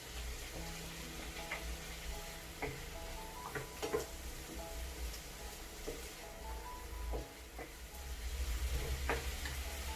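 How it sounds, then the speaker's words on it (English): Vegetables for shepherd's pie frying in a pan, a soft, steady sizzle with occasional ticks and stirring clinks, faint and close, no voices. "cook till the vegetables soften"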